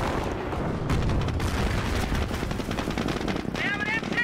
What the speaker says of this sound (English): They have an MG on us.